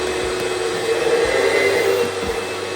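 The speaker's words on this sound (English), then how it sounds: "I'm just gonna take the shop vac, vacuum it out quick" A shop vac sucks loose debris out of the bottom of a form before an epoxy pour, a loud, close, continuous whooshing drone that holds steady throughout with no talking.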